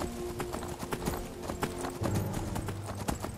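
Horse hooves clip-clop in a quick, steady rhythm while riding a steel horse in Skyrim VR, with game ambience underneath and a brief whinny-like tone.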